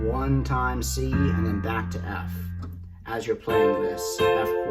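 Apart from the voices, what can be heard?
None of the usual background noises is heard.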